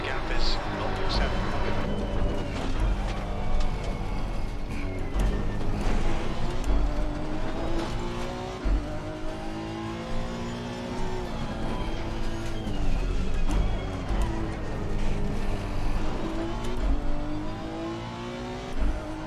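A Honda NSX Evo race car's engine revs hard around Mount Panorama in a racing video game. It sounds loud and close, climbing and dropping through repeated gear changes, with a voice talking over it.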